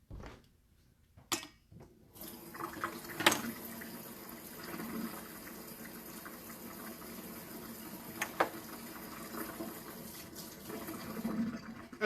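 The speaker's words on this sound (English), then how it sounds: "I'm just going to go wash my hands for a second here." Tap water runs at a kitchen sink during hand washing, a moderate, fairly distant splashing flow with a few knocks and clunks scattered through it.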